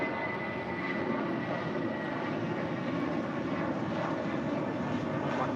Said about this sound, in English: that was KLM flight 601 coming from Amsterdam